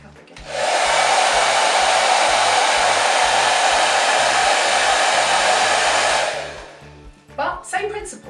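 A hair dryer blowing while hair is styled roars loud and steady at close range for about six seconds, then cuts off, followed by a few soft brushing and handling noises.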